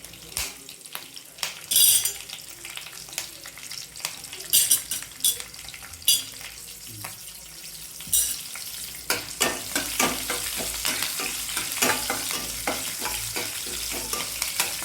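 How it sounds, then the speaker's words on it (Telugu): Mustard seeds, cumin, green chillies and curry leaves frying in hot oil for jowar upma, a bright crackling sizzle overlaid with repeated scraping and clinking of a metal spoon against the pan, close and busy throughout. "పోపు ఆవాలు జీలకర్ర ఇవన్నీ వేసుకోవాలి పచ్చిమిర్చి కరివేపాకు అన్నీ వేసుకుని కొంచెం వేగనివ్వాలి"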